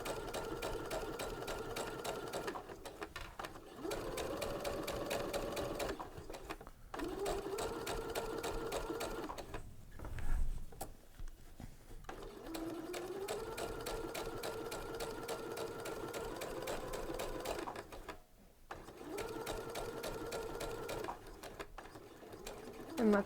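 A sewing machine fitted with a fashion sequins foot stitches ribbon in steady, rapid whirring bursts, close up, stopping and restarting several times with short pauses between runs.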